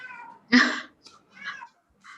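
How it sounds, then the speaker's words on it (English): Cats fighting indoors let out a sharp, loud yowl followed by several shorter meows and cries spaced over a couple of seconds, close by, with no talking. "cats are fighting."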